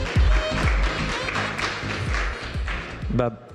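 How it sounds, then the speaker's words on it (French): An audience at a business conference claps for a speaker coming on stage, giving moderate, fairly close applause with some distinct hand claps and a voice heard beneath it. "Et vous pouvez l'applaudir."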